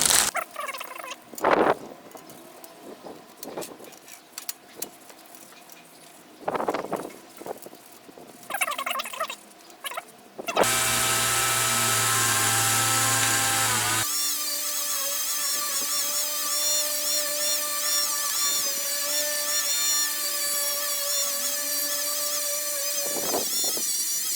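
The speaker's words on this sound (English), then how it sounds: "Just going to rub them down with steel wool now." Super fine grade 0000 steel wool rubbed over a guitar's frets gives a steady, loud, continuous abrasive scrubbing that holds on for over ten seconds after a stretch of quieter intermittent rubbing.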